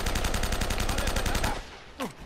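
Rapid automatic gunfire in Uncharted: Drake's Fortune, a fast evenly spaced stream of loud shots for about a second and a half, then an abrupt stop followed by a brief falling whine.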